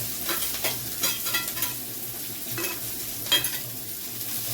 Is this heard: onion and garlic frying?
yes